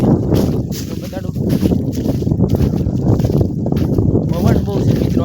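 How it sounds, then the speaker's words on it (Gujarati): Strong wind buffets the microphone outdoors in an onion field, loud gusty rumbling throughout, with someone talking over it. "પવન બહુ છે મિત્રો આજ"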